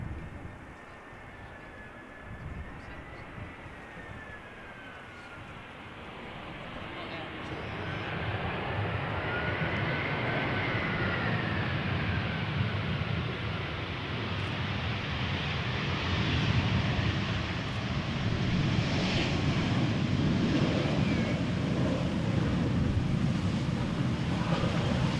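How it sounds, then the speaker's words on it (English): A TAP Air Portugal Airbus A319 arriving at Amsterdam Schiphol makes a jet roar that swells from a quieter whine into a loud, sustained rumble, with wind buffeting the microphone. "TAP Air Portugal A319 arriving from Lisbon"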